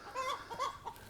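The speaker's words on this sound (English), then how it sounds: "It's just a chicken." A single chicken gives a short burst of two or three soft clucks, close and fairly quiet, with no other sound around it.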